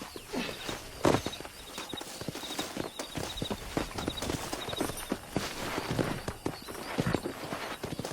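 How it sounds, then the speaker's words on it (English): Steady clip-clop of several wild horses' hooves in Red Dead Redemption, moving over ground, moderately close, with a continuous rumbling bed of hoofbeats and faint ambient noise. "there's a pack of wild horses nearby"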